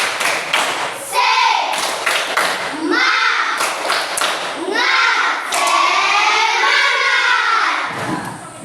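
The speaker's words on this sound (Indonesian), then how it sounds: "Ayo sekali lagi tepuk semangat. Tepuk semangat." An Indonesian primary class performs the 'tepuk semangat' clapping chant, with loud rhythmic bursts of group claps alternating with children chanting and shouting together, close and energetic.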